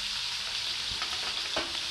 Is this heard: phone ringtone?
no